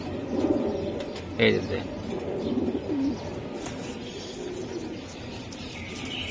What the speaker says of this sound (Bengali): প্রত্যেকটা জোড়া কবুতর অনেক সুন্দর